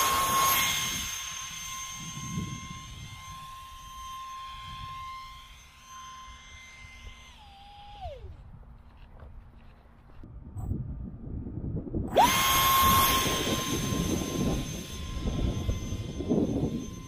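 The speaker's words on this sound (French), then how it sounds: "la poussée maximale de cet EDF 30 mm est de 220 grammes" A small RC batwing plane's 30 mm electric ducted fan motor on a 3S lipo whines with a steady high tone, winds down and drops away, then spools back up loudly to a sustained roar.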